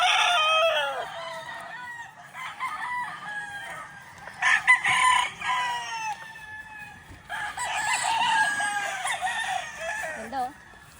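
Young roosters, stags, crow in several long bursts with clucks in between, close and clear, with quieter gaps between the calls and faint voices in the background.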